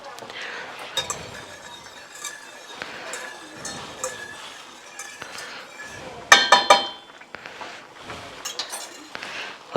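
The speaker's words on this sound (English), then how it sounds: "So we're melting butter and stirring milk at the same time." A spoon clinks and scrapes in a pot of milk as butter melts alongside for homemade mac and cheese, giving soft, irregular taps with one sharper burst of clatter, fairly quiet and close.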